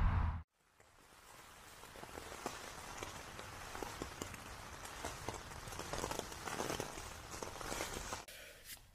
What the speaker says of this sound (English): rain's died down a bit now. It's been absolutely lashing down for the past hour and a half, maybe